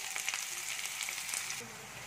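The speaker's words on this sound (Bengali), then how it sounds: "সেই পেঁয়াজ কুচিটা দিয়ে দিচ্ছি তেলের মধ্যে।" Chopped onions hitting hot oil with bay leaf for an egg masala curry, a broad steady sizzle close by that eases slightly toward the end, no voices.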